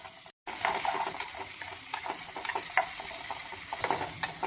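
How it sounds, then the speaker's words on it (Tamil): Soft, steady sizzling of ash gourd sautéing in ghee in a pan, with occasional light stirring scrapes, quiet and close. "சக்கரை பூசணி நெய்யில் நல்லா வதங்கிடுச்சு"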